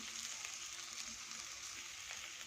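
Cinnamon, six cloves and coconut roasting in oil in a pan, giving a faint, steady crackling sizzle with light pops, soft and continuous, with no voices.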